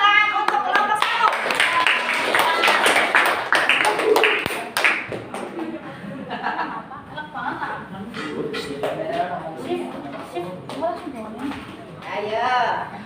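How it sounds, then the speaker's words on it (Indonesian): Hands clap steadily in a classroom as students applaud group 1, a dense, close patter of many small claps that runs on with chatter and voices mixed in, dipping briefly midway before rising again. "Beri tepuk tangan untuk kelompok 1"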